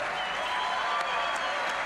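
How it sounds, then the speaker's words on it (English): A crowd at a post-event show for the WRC Rally Islas Canarias 2025 applauds the rally winners, a brief burst of steady clapping that carries at even loudness throughout. "so a big applause for them again"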